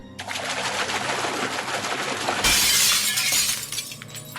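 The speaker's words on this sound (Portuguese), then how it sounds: "fazendo com que o recipiente tombasse no chão e se quebrasse por completo" A glass aquarium tips over and shatters on the floor. Brief rustling thrashing leads into a loud, sustained burst of breaking and scattering glass lasting over a second, heard alone and close.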